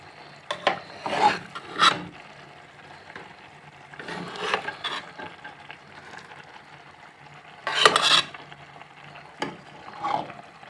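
Spoon scraping and stirring tapioca biryani in a cooking pot, irregular rasping strokes in a few separated bursts, close and moderately loud without speech.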